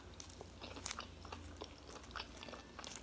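Crunchy fried fish, including the fin, being chewed close up at a Friday fish fry: repeated crisp bites and crunches in an irregular rhythm, loud and clear with no voices over them.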